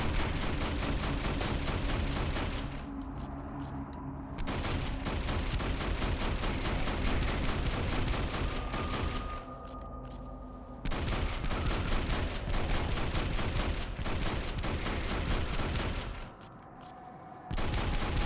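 Rapid bursts of gunfire in the video game Hunter: The Reckoning fill most of the clip with dense, loud volleys, broken by a few brief lulls.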